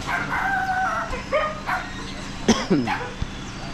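A dog barks a few times in short bursts amid outdoor background noise, with a rooster-like call and some distant voices mixed in.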